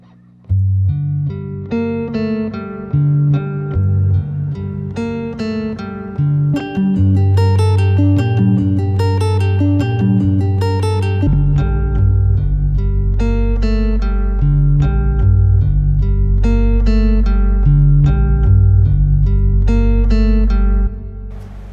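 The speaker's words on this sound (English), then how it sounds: "when I put it back to normal speed, those notes will be half as fast and twice as deep" Low guitar notes replayed by a looper at half speed, an octave down, producing a deep, booming sub-bass line under layered melodic notes, loud, sustained and continuous with no talking.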